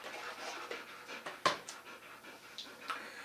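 A dog pants steadily and quietly close by, rapid soft breaths repeating with a few small bumps and rustles around it in an indoor space.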